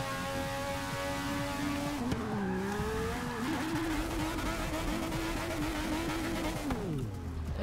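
Honda-powered McLaren MP4/4 Formula One car in a racing video game, its engine screaming at high revs with a rising and falling tonal whine through gear shifts, loud and continuous, with a brief tire skid.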